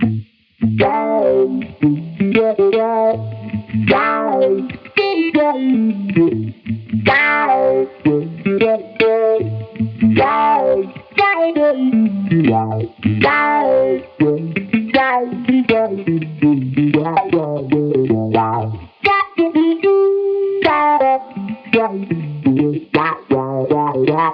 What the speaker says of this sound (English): you can get an envelope filter sound out of this pedal